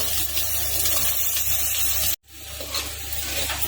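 Carrots and potatoes frying in a pan with ginger garlic paste, a loud steady sizzle and stirring close up, briefly cut off before resuming.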